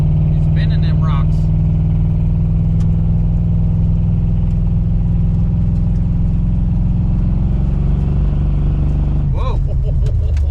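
A hot rod car's engine runs steadily and loud on its first test drive, a sustained low drone that shifts near the end as it revs, with people talking over it.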